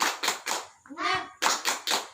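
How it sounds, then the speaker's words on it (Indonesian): Children perform the 'tepuk semangat' rhythmic clap chant: three sharp, evenly spaced claps, a brief chanted vocal phrase, then three more claps, close and crisp. "Biar semangat, kita tepuk semangat ya"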